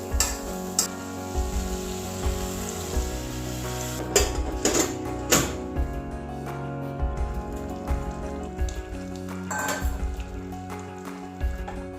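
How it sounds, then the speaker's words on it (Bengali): Ghugni of peas, tomato and potato stir-fried in a pan gives a steady sizzle with scattered spatters and scrapes, with a soft tonal hum running beneath it. "আর এই দানাগুলোকে সব দিয়ে দেবো মটরশুঁটি আর এই টমেটো আলু সব দিয়ে একটুখানি কষিয়ে নেব"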